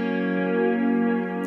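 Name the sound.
guitar with stereo tape delay effect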